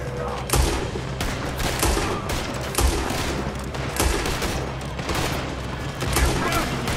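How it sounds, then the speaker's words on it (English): Rapid gunfire in a Red Dead Redemption 2 shootout, with repeated loud shots in close bursts over a steady din of battle and voices talking throughout. "Why are they all shooting at me?"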